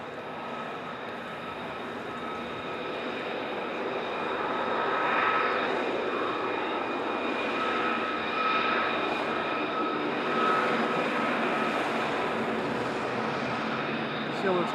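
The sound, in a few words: F-35 fighter jet coming in to land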